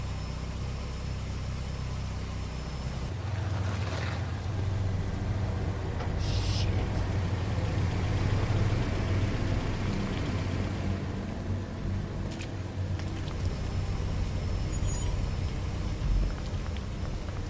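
In the video game The Wolf Among Us, a car engine idles with a low, steady hum. It grows fuller after a few seconds and runs under quiet ambient noise.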